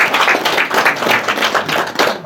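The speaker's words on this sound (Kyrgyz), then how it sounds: "бир алаганча кол чабуулар болсун" Crowd clapping at a Kyrgyz matchmaking ceremony (kuda tosuu), a loud, steady burst of many hands applauding in a rhythmic, pulsing wash that carries through the whole stretch without pause.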